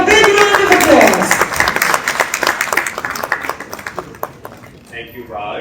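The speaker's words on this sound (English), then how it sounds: "let's have a big round of applause" Audience applause for the host at a corporate gathering marking a partnership between RRP Electronics and Deca Technologies, loud and dense at first, then thinning into scattered claps that fade out, with voices beginning near the end.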